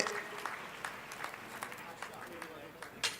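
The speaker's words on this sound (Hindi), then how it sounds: "आप भी सब ताली बजा के सभी कोरोना योद्धाओं का स्वागत कीजिए" Audience applause welcoming corona warriors such as health workers and sanitation staff at a public address, heard as scattered, fairly faint clapping with a few sharper claps, steady throughout.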